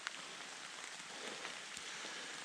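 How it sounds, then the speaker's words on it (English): Steady rain falling through woodland as it begins turning to snow, a soft, even hiss of drops on leaves and ground with a few faint closer ticks, quiet and continuous. "there's so much sound cover from all this rain that's falling down"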